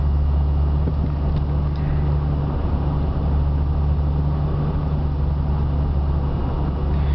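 Car driving through a residential neighborhood decorated for Christmas, heard from inside as a steady, loud low engine and road rumble with no breaks.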